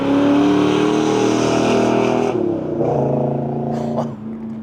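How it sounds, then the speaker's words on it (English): A 1972 Pontiac GTO's 400 engine with a 3-inch Flowmaster exhaust and H-pipe, heard close up as a loud, deep rev that falls back toward a rumbling idle. "That 400 sounds amazing, and that 3-inch exhaust setup."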